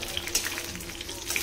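Eggplant (brinjal) pieces frying in hot oil in a home kitchen pan, giving a steady soft crackling sizzle with scattered tiny pops, fairly quiet and continuous with no voices.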